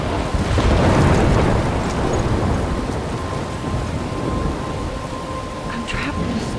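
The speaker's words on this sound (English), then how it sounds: "I'm trapped in a storm?" A Life is Strange thunderstorm with heavy rain: deep rolling thunder swells early, then a dense, loud downpour roars on steadily, close and continuous.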